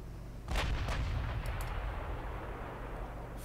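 Distant warship artillery in the game Ultimate Admiral Dreadnoughts, British 1900 campaign: a heavy booming salvo with two or three quick reports, followed by fainter later bangs over a rumbling sea and engine background.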